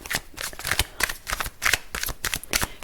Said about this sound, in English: Let's pull some tarot on this future card.